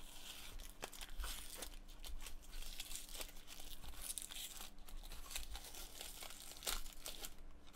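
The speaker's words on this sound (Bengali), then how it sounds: "স্টিকারটা আমরা খুলে ফেলি।" Paper sticker peeled from a Samsung 980 Pro SSD box, giving close, continuous crinkly tearing and rustling with brief louder rips, steady throughout under a low hum.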